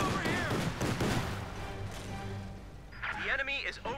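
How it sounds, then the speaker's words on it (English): In the Company of Heroes 2 strategy game, a flak half-track fires repeated booming bursts amid other battle gunfire, with a commentator talking over the whole stretch. "the flak half-track continues to pummel away"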